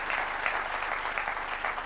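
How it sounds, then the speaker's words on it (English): An audience at a Kenyan school gathering claps in a sustained, dense round of applause, many hands together at steady strength with slight swells, no speech over it. "Please, round of applause to this great lady"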